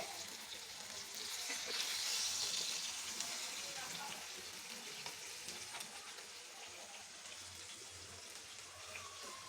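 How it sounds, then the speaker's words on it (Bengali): Pieces of chicken chap fry in hot oil over a high flame, making a soft, continuous sizzle and crackle that stays fairly faint and swells slightly early on, with no voices. "একটা একটা করে ভেজে নেব।"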